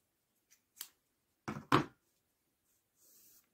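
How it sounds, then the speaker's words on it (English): Scissors snip through crochet yarn during a left-handed bumble bee project: a couple of faint quiet clicks, then two sharper close cuts in quick succession, followed by soft rustling. "Cut your yarn long enough to stitch it on."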